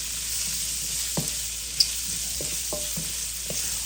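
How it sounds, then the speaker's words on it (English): Onions frying in a pan with charnushka seeds hiss steadily while a utensil stirs them, giving several light scraping taps spread over a few seconds. "Let's go ahead and give this a stir."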